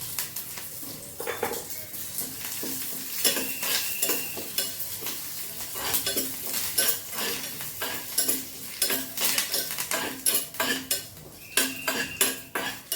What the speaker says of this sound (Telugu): నూనె వేడెక్కింది, తాలింపు దినుసులు వేసేస్తున్నాము.